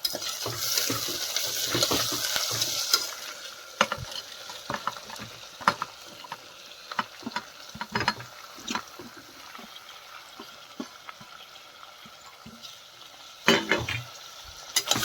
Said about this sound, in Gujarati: બધા શાકભાજી એડ કરી અને આપણે ધીમા ગેસે તેને શેકી લઈશું